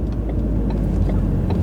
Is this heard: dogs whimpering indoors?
no